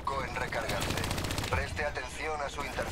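Gunfire from the video game Black Ops 3 crackles in rapid automatic bursts, loud and dense, with players talking over the shooting.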